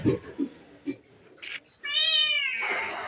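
A cat near freshly caught fish outdoors gives a single, drawn-out meow after a few faint knocks and rustles, followed by a soft hiss of background noise.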